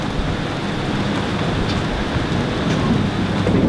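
Steady rain falling outdoors with a low rumble of thunder underneath, a dense, continuous hiss that stays even throughout, with no one speaking.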